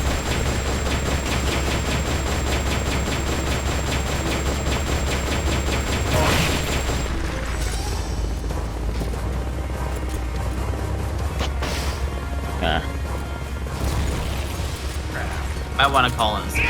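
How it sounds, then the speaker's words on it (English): Missiles firing in the Metal Gear Solid Peace Walker video game, a loud continuous barrage of booms and mechanical clatter with a sharp blast partway through, layered over game music and effects. "I'm surprised it took that long to fire the missiles again."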